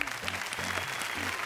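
Audience applause at a comedy award show, a short burst of steady clapping from a crowd, with voices heard faintly underneath.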